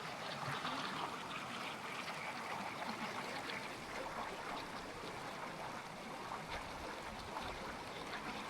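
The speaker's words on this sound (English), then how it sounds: "There's the creek. We'll just keep following that" Pipestone Creek runs in a steady, close rush of flowing and trickling water. The sound is continuous and even throughout, with no voices over it.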